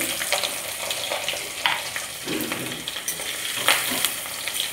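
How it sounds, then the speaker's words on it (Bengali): Chopped onion, thickly cut, frying in hot oil with whole cumin while being stirred, giving a steady close sizzle with scraping stir sounds and brief crackling bursts, no talking. "এখন আমি এই তেলের ভিতরে দিয়ে দেবো পেঁয়াজ কুচি"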